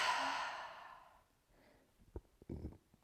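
A long, audible exhale during a yoga stretch, close and fading over about a second, followed by faint rustling movement.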